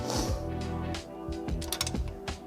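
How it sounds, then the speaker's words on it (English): Ratchet clicks and mechanical clatter from torquing the rear brake caliper bolts on a BMW G87 M2 during a brake upgrade, close and fairly loud in short repeated bursts. "And we just torque down the bolts in the back"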